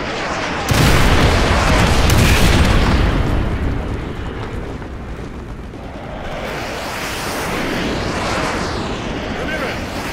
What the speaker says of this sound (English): Use your laser designator to call in artillery on those vehicles.